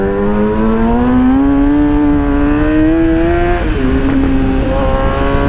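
A Yamaha R6 motorcycle with its muffler removed revs loudly and continuously nearby, its engine note climbing steadily, then dipping briefly and picking up again.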